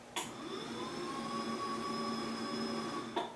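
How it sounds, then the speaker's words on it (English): A motorized FlexiSpot standing desk rises with a steady, close electric motor whine that starts and stops cleanly after about three seconds, with a small clunk at each end. "Let me raise my FlexiSpot desk."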